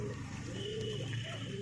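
Pigeons at a market sale, a soft low coo rolling continuously under a faint background hum, fairly quiet and close.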